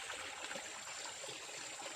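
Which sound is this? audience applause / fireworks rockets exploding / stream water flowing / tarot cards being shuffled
stream water flowing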